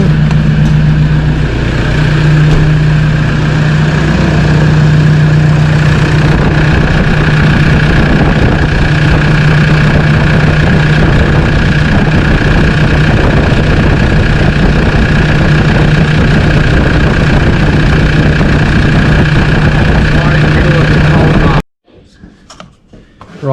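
A Toyota Hilux engine idles in neutral, a loud, steady, close drone with a constant low hum that runs unbroken for about twenty seconds before cutting off abruptly.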